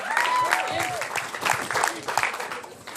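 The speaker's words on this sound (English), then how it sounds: "Give a round of applause for the sister of the groom, Ariel" Wedding guests applaud the groom's sister in a mix of scattered clapping and cheering, with voices calling out over the claps.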